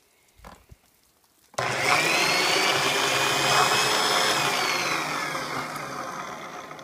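An old 6-amp wire wheel tool starts up after a short quiet moment and runs steadily at a loud, harsh whirring pitch, with a bristly scraping hiss carried through to the end.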